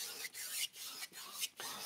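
Four soft rasping brush strokes as a paintbrush drags acrylic paint back and forth across canvas, each a brief scratchy swish separated by short gaps, faint and close.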